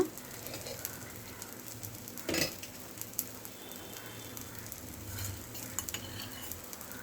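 Dosa with butter cooking on a hot tawa over low flame, a quiet steady sizzle with faint scraping and stirring sounds, one louder clatter of a utensil partway through.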